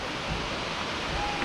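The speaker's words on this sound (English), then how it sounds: "What do you guys think of the waterfall?" A waterfall roars steadily and close at a trail stop visited by mountain bikers, a dense, even wash of falling water with a faint voice barely surfacing beneath it.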